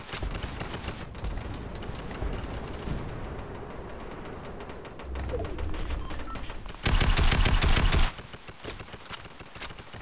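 A new weapon firing in Fortnite, bursts of rapid shots with a loud, dense burst near the end, close and alone without talk.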